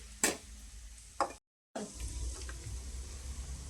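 Paneer fries in a pan for paneer masala, a steady close sizzle that starts after a brief silence. A couple of short sharp clicks come before the sizzle, with no talking.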